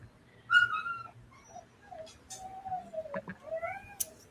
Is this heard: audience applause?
no